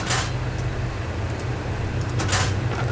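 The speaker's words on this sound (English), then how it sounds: "I'll just shut all these doors" Metal base doors shutting in the Ark Survival Evolved video game, two swishing sliding closures, one at the start and one near the end, over a constant low mechanical hum.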